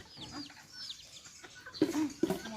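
Bantam chickens cluck close by, soft chirping calls at first, then louder, rougher clucks in short bursts toward the end.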